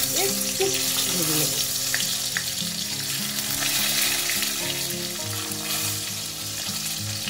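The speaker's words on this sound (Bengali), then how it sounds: "হালকা ভাজবো।" Halved boiled eggs fry lightly in a pan with a steady, close sizzle throughout, joined by faint clinks and scraping, with no talk.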